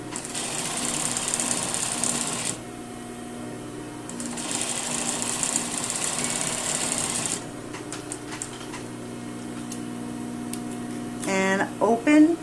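Sewing machine stitching a lined jacket's bodice to its facing, a close, fast whirring hum in two long runs separated by a short pause, followed by quieter handling clicks and a brief burst of sound at the end.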